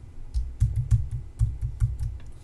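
A computer keyboard is tapped to trigger a Command+1 shortcut, giving a quick run of about eight crisp, close key clicks in an uneven rhythm with no talking.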